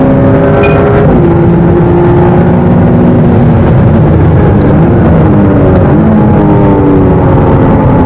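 A McLaren supercar engine pulling hard on a track, a loud close roar with sweeping gear-change rises and falls, continuous and with no talk.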